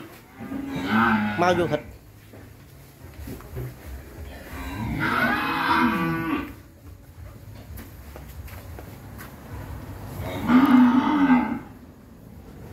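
Cattle being raised for beef at a farm in Vinh Long moo three times in long, drawn-out calls separated by short pauses, loud and nearby, with a brief voice speaking between them.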